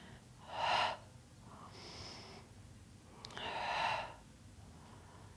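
Breaths drawn and released during a Pilates leg and adductor exercise, two soft airy exhalations with a fainter one between, close and alone with no talk.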